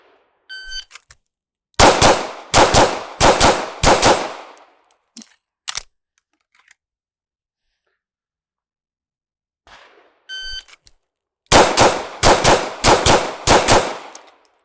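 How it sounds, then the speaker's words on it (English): A shot timer's sharp electronic start beep is followed by rapid bursts of close, loud gunfire during a pistol shooting drill. The sequence then repeats after a quiet gap, with a second beep and another rapid string of shots. "Suppose I have to turn the timer on."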